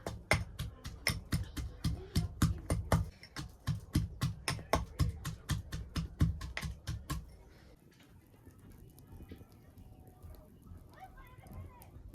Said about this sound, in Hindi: तो अभी मैं अदरक कूट रही हूँ